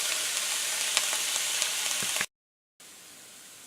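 Onions sizzle steadily in a pan with a pinch of salt, a dense crackling hiss with small pops, close and fairly loud, broken by a brief silent gap before the frying resumes slightly quieter.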